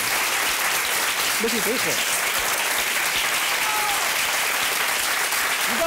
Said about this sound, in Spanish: Un aplauso para Matías. Muy fuerte.